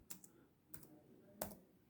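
A computer keyboard gives a few faint, sparse keystroke clicks, irregularly spaced in a quiet room.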